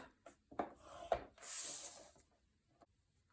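Scoring paper for a mini album, pressing score lines at measured marks along a sheet; a few short scraping strokes and taps, close but quiet, with one longer hissing swipe.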